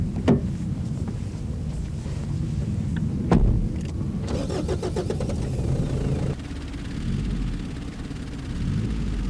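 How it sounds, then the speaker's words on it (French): A Mitsubishi 4x4 engine runs in reverse while the stuck vehicle is towed out, a low rumbling drone with a brief rev and some clunks, fairly close. "je retourne à mon véhicule et je mets la marche arrière pour aider le véhicule qui me tracte"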